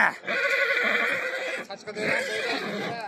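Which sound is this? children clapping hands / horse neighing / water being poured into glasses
horse neighing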